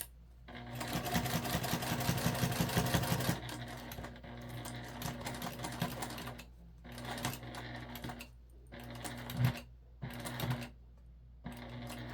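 A sewing machine stitches a crossbody bag in several bursts, one long rapid run first, then shorter runs broken by pauses and a few handling clicks.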